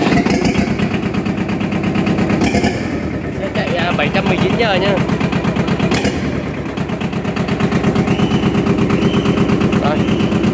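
A Yanmar 2210 tractor engine runs without a muffler, a loud, harsh rapid clatter like machine-gun fire throughout, with brief dips where it is revved, and someone speaking over it.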